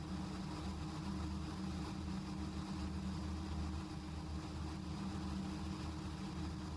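Steady, loud drone of the Raptor prototype aircraft's engine and propeller during descent, a continuous low-pitched roar with broadband wind noise, unchanging throughout and with no talk.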